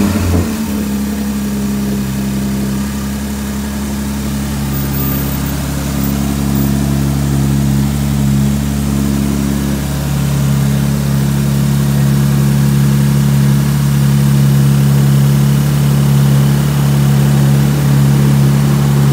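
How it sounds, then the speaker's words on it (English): A 2021 Porsche Macan GTS with its 2.9L engine fires up and settles into a steady, loud, close idle with a deep continuous rumble that holds for the whole stretch. "So we're gonna start it up now for the first time"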